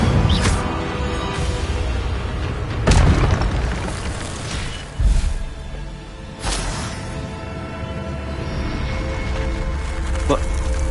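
A fire spell cast in Hogwarts Legacy, the video game, erupts as a series of loud booming bursts over a steady roar of game music and effects. Separate blasts hit at irregular intervals, with speech woven in among them.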